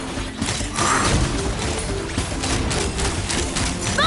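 Rapid gunfire from prototype wings in the Genshin Impact video game rattles steadily over a dense, busy game soundscape, with mechanical clatter throughout and no speech.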